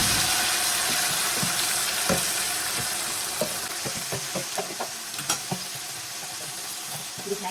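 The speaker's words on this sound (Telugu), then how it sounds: "ఇది దీంట్లోనే మ్యాగినేట్ చేసిన చికెన్ మొత్తం వేసేస్తున్నాను" Marinated chicken hits a hot pot for homemade biryani, giving a steady, close sizzle with scattered crackles and pops that grow sharper toward the end.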